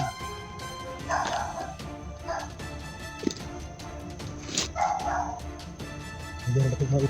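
Stray dogs bark and yip several times in short bursts, fairly close, with some whimpering mixed in among background voices.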